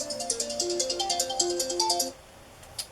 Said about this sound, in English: Turn my phone off.